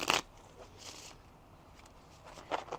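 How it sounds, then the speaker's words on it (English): Oracle cards shuffled by hand, a brief papery riffle at the start, a soft flutter near one second and another short burst at the end, close and quiet. "All right, one more shuffle here."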